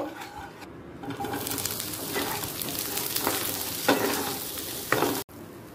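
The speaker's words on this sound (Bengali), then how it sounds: "আরও সামান্য ঘি দিয়ে ক্যাপসিকামটাকে ভেজে তুলে নেব" Capsicum frying in ghee hisses in a continuous close sizzle, with scraping stirs through the pan and a sudden cutoff at the end.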